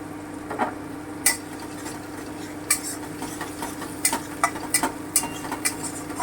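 Sour yogurt fries in a pan for a green banana curry, a quiet steady sizzle punctuated by sharp clicks and scrapes of a utensil against the pan, clustering toward the end.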